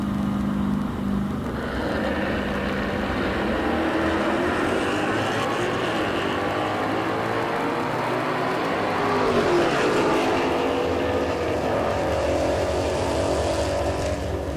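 Race cars roar past at a drag racing event, the Northeast Sportsman Nationals, a continuous loud engine drone that swells and shifts pitch as the vehicles accelerate down the strip.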